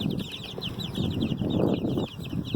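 A crowd of baby chicks cheeps continuously in high rapid peeps over rustling and shuffling close by.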